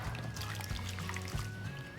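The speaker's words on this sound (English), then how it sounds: "add some hot water to the pan" Hot water poured from a kettle into a pan holding ramekins of pumpkin spice flan, making a soft continuous trickle and splash close by for two seconds.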